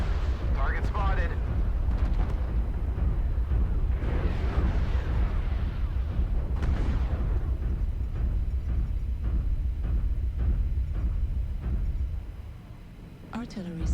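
Artillery strike in MechWarrior Online rumbles as a sustained series of heavy, booming explosions and blasts that fill the scene loudly before tapering off near the end, with a voice speaking over the barrage.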